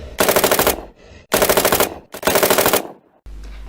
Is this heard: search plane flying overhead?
no